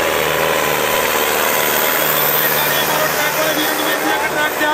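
Tractor engines labor and drone under load during a tractor tug-of-war at a village rural sports fair, a loud, sustained mechanical roar with a voice talking over it.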